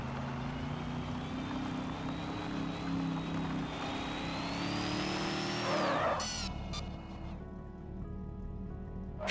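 A car engine in the Screw Drivers video game revs with a steady rising whine, climbing in pitch for several seconds before cutting off abruptly with a skid-like burst, then a lower idling drone.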